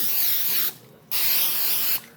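Two short hissing bursts of aerosol cooking spray onto a waffle iron, close and fairly loud, separated by a brief pause.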